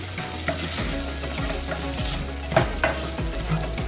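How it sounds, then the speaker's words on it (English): Cooked food is tossed in melted butter in a pan, sizzling and frying steadily while the pan is shaken in a rhythmic series of sliding, scraping tosses, heard up close with no talking. "Give it a couple of tosses. Get that butter all incorporated."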